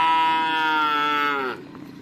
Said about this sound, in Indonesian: Ini ada 3 sapi kecil guys.